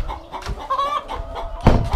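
Hens cluck and murmur close by after the lights have gone out, with one drawn-out squawk in the middle and a louder burst of clucking near the end.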